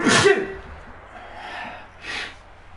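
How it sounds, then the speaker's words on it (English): A single loud, close sneeze bursts out at the start, followed by quieter breathy snorts and a sniff. "I'm gonna sneeze."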